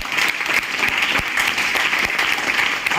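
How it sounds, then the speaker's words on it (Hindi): Steady, dense applause from an audience at a welcome event in Aligarh, sustained and even throughout without a break, with no talking over it. "जोरदार तालियां"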